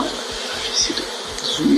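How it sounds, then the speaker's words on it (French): A honeybee swarm moving into a hive in a garden, its dense insect buzzing a steady, close hum that swells slightly in places, with no voices. "Et ça c'est les abeilles qui rentrent."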